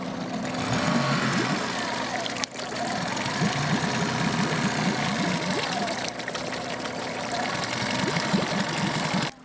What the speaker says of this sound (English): the motor was back up and running